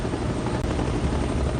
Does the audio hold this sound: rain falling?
no